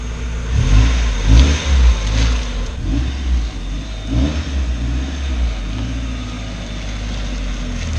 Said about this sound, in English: My Miata's going bye-bye.